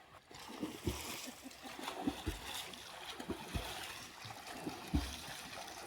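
Swimmers splash through water in a village swimming race, with irregular sharp slaps and churning strokes close by, plus faint voices in the background.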